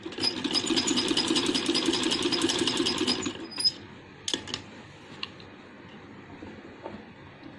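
Sewing machine stitching a folded seam on a handmade baby boy's dress, running steadily and fairly loud for about three seconds, then stopping, followed by a few faint clicks and handling noises.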